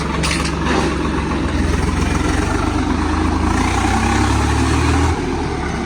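A heavy tractor engine idles steadily nearby in a field, a continuous low rumble that holds even throughout, with a slight rise in pitch and loudness toward the end.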